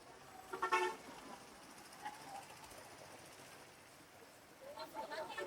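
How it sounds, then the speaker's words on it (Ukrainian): Faint city traffic hums with a couple of short car horn toots and a rattling mechanical noise, with distant voices mixed in. "звуки машин"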